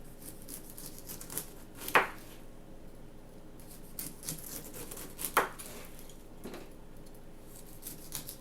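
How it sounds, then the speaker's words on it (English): A knife cuts the skin away from a pineapple, two sharp crisp slices standing out over a steady background hiss, with softer scraping strokes between them. "we're almost done peeling off all the skin off this pineapple"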